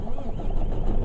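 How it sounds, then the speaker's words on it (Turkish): A Volvo F10 truck with a 12-litre engine idling after start-up, a deep, steady diesel rumble with a rhythmic low thrum, close and continuous for the whole second. "Motor sesini görüyor musun?"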